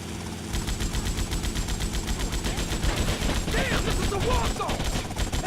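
Rapid automatic gunfire from the video game GTA Vice City rattles on steadily for most of the stretch, with game effects and engine sound underneath.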